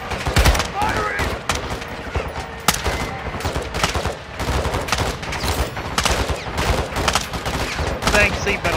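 Dense, continuous gunfire from Call of Duty Modern Warfare 2, with overlapping rifle and machine-gun bursts and loud cracks throughout, mixed with shouted voices in a chaotic firefight.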